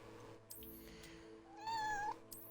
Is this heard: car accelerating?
no